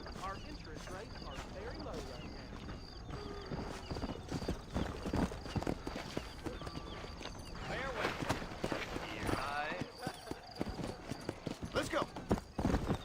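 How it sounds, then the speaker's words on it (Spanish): A horse gallops in the Red Dead Redemption video game, its hooves clip-clopping in a steady rapid rhythm throughout, with occasional snorts and voices mixed in. "Bueno, vamos a ir cabalgando"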